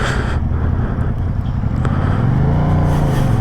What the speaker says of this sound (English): Dude, I gotta get used to this fucking bike